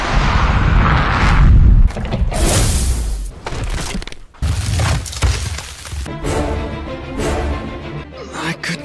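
Heavy booming blasts and crashing explosions from an anime incineration cannon attack roll out in a loud barrage, with rumbling impacts and breaking debris throughout.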